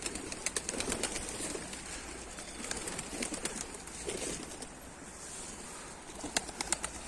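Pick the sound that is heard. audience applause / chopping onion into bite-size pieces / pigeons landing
pigeons landing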